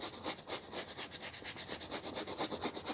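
A soft bristle brush scrubs the outsole of a bowling shoe in steady, rapid back-and-forth strokes, a close, continuous rhythmic rubbing with no voices.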